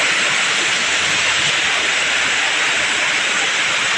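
Heavy rain falling continuously in Davao, a dense, even hiss of downpour with no breaks, loud and steady throughout with no voices.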